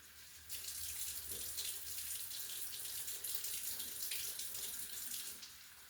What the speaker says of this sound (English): So I'm going to take the water and run over these, warm water.